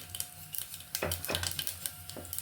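Mustard seeds splutter in hot oil in a pan and urad dal is tipped in for tomato rice, giving faint crackling with a few clinks of a spoon against the pan.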